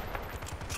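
Rapid automatic gunfire in the video game Battlefield: Bad Company 2 rattles in a quick run of bursts at fairly low volume.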